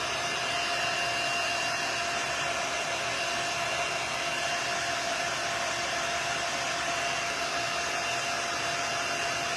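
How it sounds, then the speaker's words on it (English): Heat tool blowing continuously while working on a wooden craft kit, a steady loud rushing hiss with an even tone throughout and no talk. "I'm going to turn my heat tool on."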